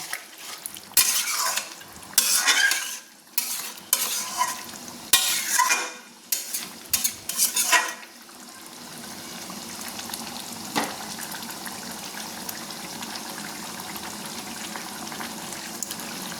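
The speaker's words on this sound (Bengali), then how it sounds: "টক দিয়ে দিয়ে ভালো করে নেড়ে নিচ্ছি" Chicken curry being stirred in a frying pan, with a burst of loud scraping and clattering utensil strokes at first, then a steady lower sizzle as it keeps cooking; no talking.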